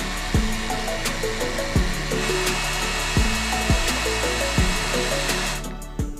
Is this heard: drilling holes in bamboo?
yes